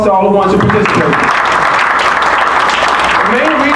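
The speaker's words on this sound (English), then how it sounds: "Give yourself a round of applause to all the ones who participate." A crowd at a gubernatorial campaign event breaks into a loud round of applause just as a speaker's voice ends, the clapping dense and sustained to the end.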